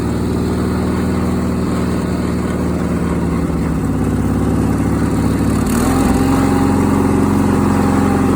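A 1976 Sears SS16 garden tractor engine runs steadily nearby, a loud continuous mid-pitched drone with a slight stutter and a shift in pitch partway through, no talk.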